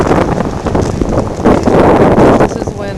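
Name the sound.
strong wind blowing outdoors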